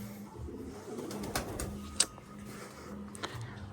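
Pigeons cooing softly close by, low repeated coos under a faint hissing background with a few sharp clicks and rustles.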